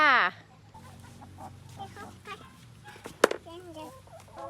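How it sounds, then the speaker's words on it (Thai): Hens in a coop on a rubber plantation cluck and squawk in short irregular bursts at close range, with one sharp loud call near the end; a person talks quietly in between. "ปล่อยไก่"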